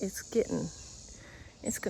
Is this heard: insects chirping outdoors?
yes